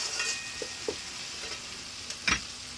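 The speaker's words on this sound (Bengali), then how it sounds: "পেঁয়াজটা একটু লাল লাল ভাজা হতে দেব।" Onion sizzling in a pan of hot oil, a steady close hiss punctuated by a few soft taps of the spatula and one louder scrape toward the end; no voices.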